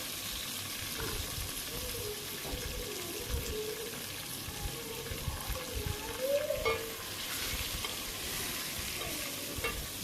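Boneless chicken, about 400 grams, sizzling in a pot for restaurant-style chicken handi as it is stirred, with a steady frying hiss, scraping stirs throughout and a faint tonal background sound, no talking.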